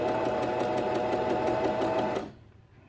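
A sewing machine runs a narrow seam through interfacing in one quick, steady burst of rapid needle stitching, close and fairly quiet, stopping abruptly near the end.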